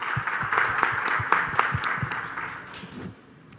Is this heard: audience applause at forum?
yes